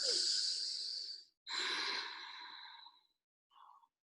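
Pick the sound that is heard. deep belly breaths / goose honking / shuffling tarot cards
deep belly breaths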